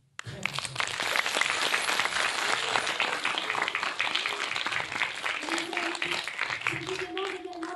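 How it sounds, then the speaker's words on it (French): An audience at a children's stage show breaks into sustained clapping after a short pause. The dense applause holds for several seconds and thins slightly toward the end, where children's voices and chatter rise faintly through it. "Et on peut applaudir Gigi très fort."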